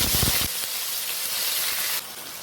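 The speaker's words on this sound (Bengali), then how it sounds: "পেঁয়াজগুলো লো ফ্লেমে হালকা ফ্রাই করে নিচ্ছি।" Onions fry in oil over a low flame in the same pan where tilapia was just cooked. A steady, close sizzle runs throughout, with a brief low clatter at the start and a slight drop in the hiss near the end.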